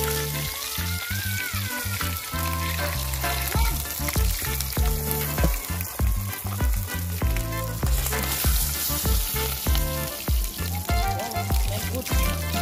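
Fish for brown stew fish frying in a hot pan, with a loud, steady sizzle and crackle running throughout and a few sharp knocks and clatters over it.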